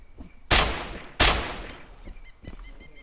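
Two sharp, loud gunshots in DayZ Overpoch fired at bots, each a sudden blast with a ringing decay about half a second apart, followed by faint scattered clatter.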